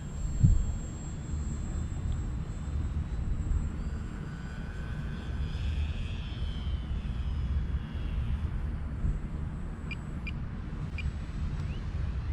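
An electric 1000mm EPP Hummer 3D RC stunt plane flies outdoors with a steady, thin motor and propeller whine that holds at a moderate distance across the clip.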